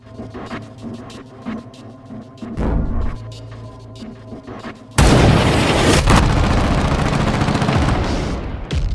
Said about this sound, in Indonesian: Yuki pun menembak pistol yang sedang dipegang oleh anggota CIA yang sudah modar.